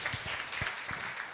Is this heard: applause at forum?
yes